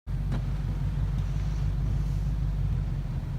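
A 2019 BMW M850i Convertible launching hard from a standstill, its engine giving a deep, steady low roar with strong rumble, heard from inside the open-top car with no speech over it.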